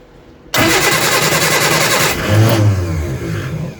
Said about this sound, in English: I've got a fresh can of fuel. See if it starts.